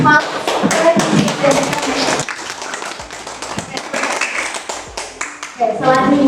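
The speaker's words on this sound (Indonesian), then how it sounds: "Oke, tepuk tangan untuk Mas." Applause from a classroom audience for a presenter at a microteaching competition, loud and uneven with sharp individual claps, overlapping with talking.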